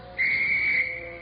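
A sharp whistle is blown at a snowy prisoner-of-war camp during morning roll call, giving one steady, piercing blast of nearly a second that stands alone and then fades.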